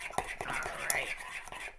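A spoon scrapes and clinks in a bowl as it stirs a flour-and-water paste for papier-mâché. The stirring is quiet and close, with several short scrapes and taps that come at an uneven pace.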